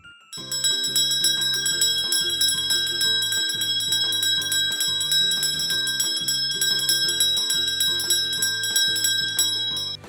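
A small bell chimes a bright, tinkling melody, ringing steadily and evenly for several seconds with no voices.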